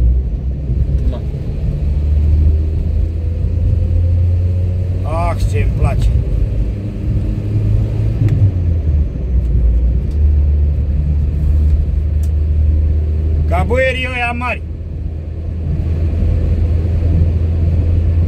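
A Renault 12 fitted with a TS base engine drives on the street with a steady, low engine rumble throughout, and the pitch shifts midway. A few short spoken remarks break in over the drone.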